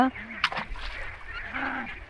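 Khaki Campbell ducks at a riverside farm give a few loud nasal quacks, one near the start and another toward the end, with a sharp knock between.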